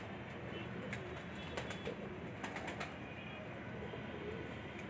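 Ali wala pigeons at a Sialkot fancier's loft coo softly and faintly against a steady background hiss, with a few brief wing or movement sounds.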